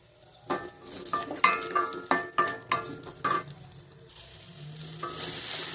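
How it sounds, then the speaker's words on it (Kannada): Chopped onions fry in a teaspoon of oil in a pan, with a run of sharp, rhythmic spatula scrapes and clinks over a steady sizzle, followed by a softer ongoing hiss. "ಪಾತ್ರೆಗೆ ಒಂದು ಟೀ ಸ್ಪೂನ್ ಅಷ್ಟು ಆಯಿಲ್ ಹಾಕ್ಕೊತೀನಿ ನಂತರ ಕಟ್ ಮಾಡ್ಕೊಂಡಿರೋ ಈರುಳ್ಳಿನ ಹಾಕ್ಬಿಟ್ಟು ಫ್ರೈ ಮಾಡ್ತೀನಿ"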